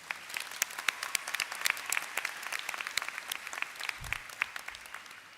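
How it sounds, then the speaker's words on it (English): A crowd at a graduation ceremony breaks into applause, a dense field of many sharp individual claps at close to moderate distance, steady throughout with a brief low thump near the end. "How about a round of applause for career and technical education students today?"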